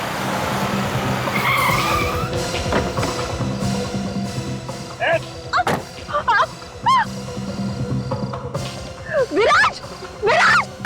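Car skidding with long tire squeals, loud and close, followed by a series of short squealing bursts over an engine rumble in a forest setting.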